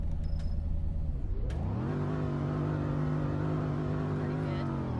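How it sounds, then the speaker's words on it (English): An American car engine revs up, its pitch climbing sharply to a high, steady drone, then holding there loud and close. "Let's rev it."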